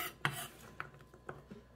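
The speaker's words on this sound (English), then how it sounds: "So I'm going to transfer everything to my blender." Pots, dishes and utensils clink and knock while ingredients for a pineapple watermelon juice are transferred into a blender in a home kitchen, a few sharp close taps spread over a quiet background.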